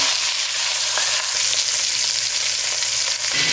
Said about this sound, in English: I dried the meat with a paper towel and now I'm just laying it fat side down.